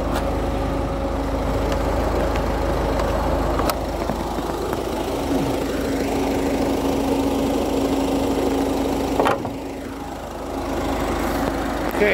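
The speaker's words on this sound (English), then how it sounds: "as you can hear, the engine very quiet, very smooth" A 2015 Ford Focus 1.5 TDCi diesel with 146k miles idles steadily with a low, even rumble throughout, close by, with a couple of brief clicks and a short word spoken once.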